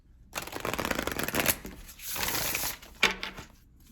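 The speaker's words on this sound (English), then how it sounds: "I'm going to shuffle" A deck of tarot cards being shuffled close up, quick riffling and sliding sounds in a couple of short bursts.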